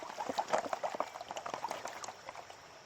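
Gravel and clay are swirled in water during a test gold pan. The faint, irregular sloshing and trickling comes in small splashy pulses close by.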